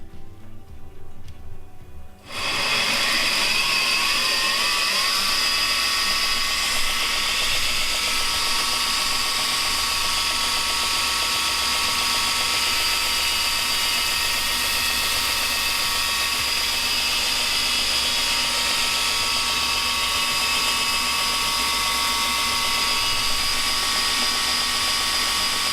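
An Oregon Blade Maker tilt-top belt grinder mounted on its frame starts up and runs with a steady, loud, high-pitched whine and smooth motor hum, unbroken and without talk.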